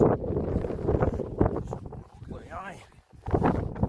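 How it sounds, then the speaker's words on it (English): Strong wind blows across the microphone on Helvellyn, a buffeting low roar that surges and drops, heard under someone talking to the camera. "Don't know if you can hear me with the wind."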